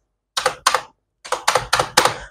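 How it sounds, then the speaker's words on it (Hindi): Keys on a branded computer keyboard click close up while being typed, six sharp, distinct clicks falling in a pair and then a quick run of four, with no talking. "क्योंकि इसके क्लिक आप साउंड सुन सकते हैं"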